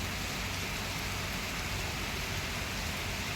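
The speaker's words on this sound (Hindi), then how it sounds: "भयंकर बारिश हो रही है" Heavy rain pours steadily at 6:30 in the early morning, a dense, even hiss of falling water that fills the whole stretch without a break and with no talking.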